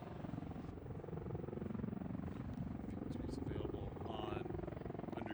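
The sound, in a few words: MV-22 Osprey tiltrotor aircraft coming into a hover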